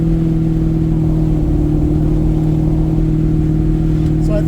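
G-body Chevrolet Malibu cruising on a smooth country road, heard from inside the cabin as a loud, steady engine drone and road rumble.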